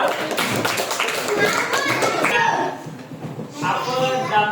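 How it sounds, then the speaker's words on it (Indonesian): Children clapping hands in an elementary school classroom, a burst of uneven group clapping mixed with lively voices that fades briefly, then picks up again toward the end. "Betul, tepuk tangan untuk dia."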